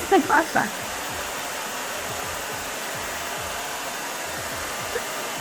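A handheld hair dryer blows steadily on hair being dried for a blunt cut with wispy bangs, a close, even whooshing roar throughout, with a brief voice at the start.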